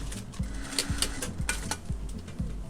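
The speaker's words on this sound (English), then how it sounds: "And now she's going to sew it." In a New York sewing factory, a machine sews elastic into a garment, giving a close, steady mechanical chatter with a low motor hum and regular knocking beats, no voices.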